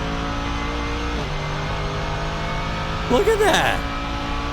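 A Mercedes GT3 race car chases an Audi R8 GT3 around the Nürburgring, heard from inside the car as a steady, droning engine note that drops at a gear change. A voice speaks briefly over it.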